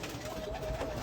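A soft, low pigeon coo sounds briefly against a faint background murmur.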